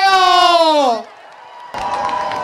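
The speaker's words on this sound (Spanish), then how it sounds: "Fuerte el aplauso, por favor, para Drag Deseo." Loud crowd cheering and whooping after drag performers at a Pride night event in Águilas, with a strong sustained voice or whistle tone fading out before a burst of noisy cheering and applause returns.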